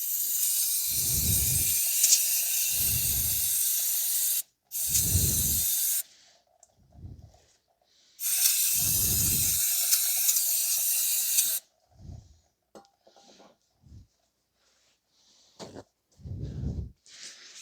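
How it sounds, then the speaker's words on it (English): Pressure-washer spray on the front axle and suspension area of a 2009-2019 Toyota Corolla during a wheel bearing replacement, heard as several loud hissing bursts of a few seconds each with short pauses and faint clatter between them. "I'm just going to wash down some areas and where the axle is."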